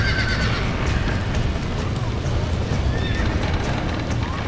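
Horses in the Red Dead Redemption video game neigh and whinny repeatedly over clip-clopping hooves and a busy, loud game soundscape.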